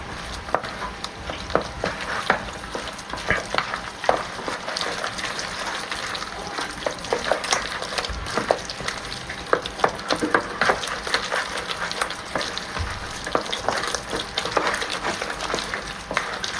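Moroccan maakouda, a crispy potato fritter mixture with onion, being stirred in a frying pan: a continuous close crackle and sizzle with soft scraping and wet stirring sounds.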